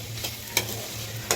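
A spoon stirs cowpea greens curry with grated coconut in a pan, giving soft scraping strokes with a few sharper clacks against the pan over a low sizzle, close and with no talking.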